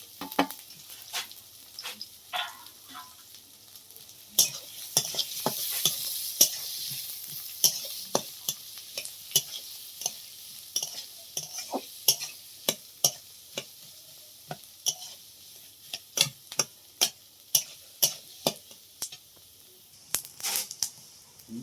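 Onions frying in a pan for a snail curry give a soft, steady sizzle, broken by frequent sharp scraping clicks from stirring that grow denser toward the end.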